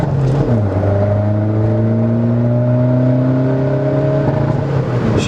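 Close, loud engine of a stage 1 tuned Skoda Fabia vRS accelerating hard in second gear, its steady rising drone climbing smoothly in pitch for about five seconds without a break.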